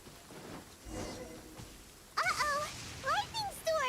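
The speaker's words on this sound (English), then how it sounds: "Uh-oh! Lightning storm!" A thunderstorm with rain and thunder in Genshin Impact, a soft rain hiss with low rumbles that is joined by loud chirping game effects and a voice in the latter half.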